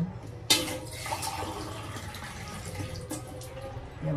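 Water poured over brined milkfish layered in a container, a close rushing splash that starts abruptly and runs steadily for several seconds, with no speech.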